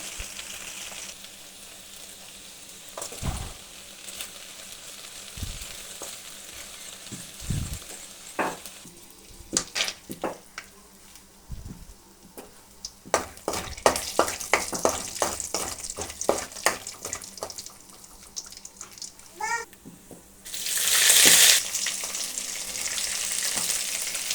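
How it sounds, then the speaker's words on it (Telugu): Oil heats in a pan for okra curry with a faint sizzle that comes and goes. Scattered clinks and taps of utensils punctuate it, and a louder burst of frying rises near the end. No one talks. "కొద్దిగా ఆయిల్ పోసుకుందాం"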